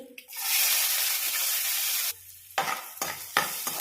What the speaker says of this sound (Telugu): తాలింపు కూడా అంతా సిమ్ మీద పెట్టుకొని వేయించుకోవాలి